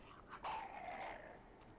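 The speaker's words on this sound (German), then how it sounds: "Der Hund sieht uns." A dog in the video game Inside lets out a single faint, drawn-out growling whine that swells and fades over a second, set against quiet ambient background.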